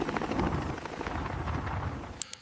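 Helicopter rotor hovering close overhead during a rescue of a cow from a python, a steady loud broadband thrum with rotor wash that holds throughout, then drops near the end.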